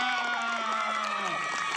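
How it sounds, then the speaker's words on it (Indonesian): A crowd of schoolchildren at a Ramadan games event cheers and claps together, a loud continuous burst of shouting voices and applause close by. "Tepuk tangan betul jawabannya"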